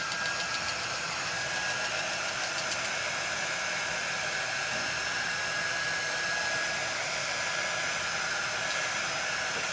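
A hair dryer blows steadily on a patriotic centerpiece, a loud continuous whirring hiss that holds without a break the whole time.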